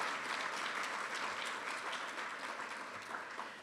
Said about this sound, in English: Please give them a round of applause for the work that they're doing every day tirelessly